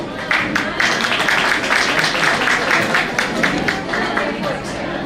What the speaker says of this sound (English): Let's clap loudly for our happy hearts of Standard 2.